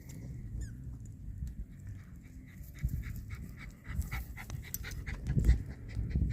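A ranch dog pants rapidly and heavily after chasing a ball, quick rhythmic breaths close by with light scuffling and patter around it, no talking.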